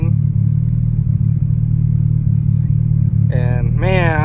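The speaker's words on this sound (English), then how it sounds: "I miss the sound of this car just idling, just like that chop sounds so good." Loud, steady low idle from a car engine fitted with a Burton Racing cop kit on its first start, a continuous choppy rumble that runs alone until a voice begins speaking near the end.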